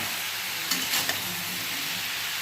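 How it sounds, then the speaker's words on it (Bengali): Fried potatoes tipped into a hot pan of jackfruit curry, giving a steady broadband sizzle with a brief stirring clatter near the middle, close and moderately loud, with no voices. "এবার ভেজে রাখা আলুগুলো দিয়ে দিলাম"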